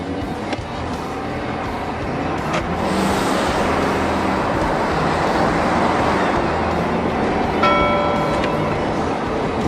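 A Ford Super Duty heavy-duty pickup accelerates hard from a standstill in two-wheel drive with traction control off, its engine roaring steadily and loudly for the whole stretch over broadband road and wind noise.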